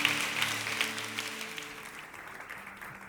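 A church congregation claps after a call to applaud God, a soft, fairly distant patter of hands that starts strongest and slowly thins, with faint sustained tones lingering underneath.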